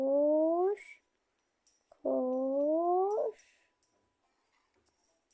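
A dog lets out two drawn-out, whining howls with a pause between them, close by, followed by faint high chirps and quiet background.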